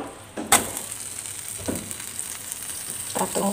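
Bread slices fry in a pan with a soft, steady sizzle, punctuated by a few brief clinks and scrapes from a utensil turning the bread.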